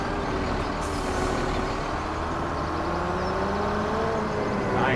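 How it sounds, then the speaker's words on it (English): A tractor engine from the Farming Simulator 17 video game runs steadily at close range, a continuous low rumble with a high hiss, holding even loudness throughout with no talk over it. "Nice engine sound."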